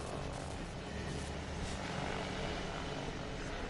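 Enemy drone in a Batman video game, a steady droning rotor hum that stays even and close with no speech.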